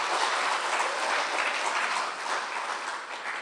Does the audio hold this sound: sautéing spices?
no